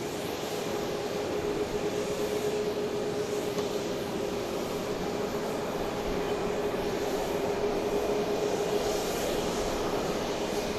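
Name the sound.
Boeing 737 MAX 8 passing, flight to Birmingham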